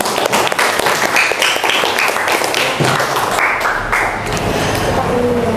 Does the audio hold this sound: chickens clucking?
no